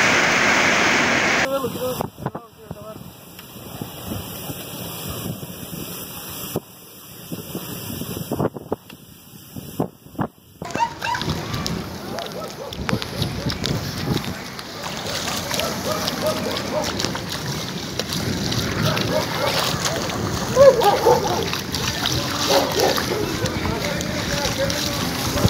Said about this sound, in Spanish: ¿Cómo está todo inundado?